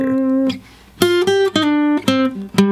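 Single-note guitar lick from a song's solo, a short phrase of plucked and slid notes after a brief pause, close and clear with no voice.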